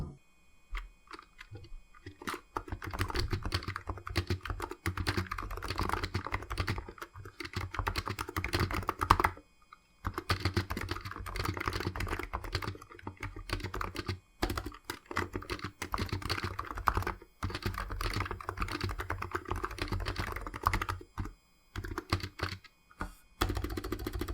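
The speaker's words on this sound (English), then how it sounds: "I'm probably going to do a sound test of this keyboard" Typing on a Razer Huntsman Mini compact keyboard in a sound test: a steady run of close, crisp key clicks and clacks with brief pauses, no voices.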